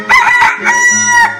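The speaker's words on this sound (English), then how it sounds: "Chicken." A rooster crows loudly and close, one drawn-out cock-a-doodle-doo lasting over a second with a rising start and a sustained tail, alone without talk.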